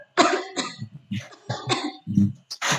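Several harsh coughs in quick succession, close and loud, with short pauses between bursts and some throat clearing.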